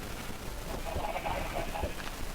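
Chickens clucking on an underground farm in a video game, a steady murmur of soft clucks with a few louder calls, fairly near and without talk.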